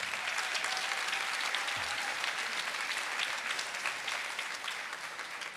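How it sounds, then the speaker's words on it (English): Audience applause at a college nursing pinning ceremony, continuous many-handed clapping heard from a distance, fairly soft and even, tapering slightly toward the end. "Please give them a round of applause as well."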